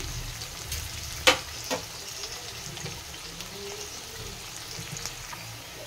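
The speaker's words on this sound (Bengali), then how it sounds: "পেঁয়াজ আর লঙ্কাটি ভাজা হয়ে গেছে" Chopped onion and chilli frying in oil in a pan, a steady, moderate sizzle close by with one sharp utensil clink and a softer knock early on.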